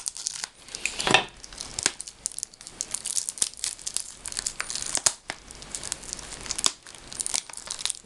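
Crinkly plastic shrink wrap being pulled and torn off an anime game box set during an unboxing, with close, irregular crackling and rustling, sharp tearing bursts and scattered handling noises throughout.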